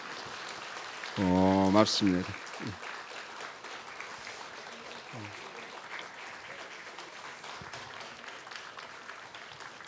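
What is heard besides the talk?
church congregation applause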